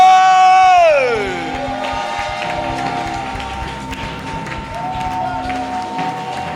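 A congregation at an evangelical gospel festival service cheers and applauds, a sustained wash of crowd noise and clapping with a sung or sustained tone fading in the first second, steady and moderately loud throughout.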